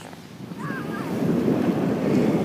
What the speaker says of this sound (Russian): Здесь очень сильный ветер. Очень тяжело здесь снимать. Но смотрите, какие волны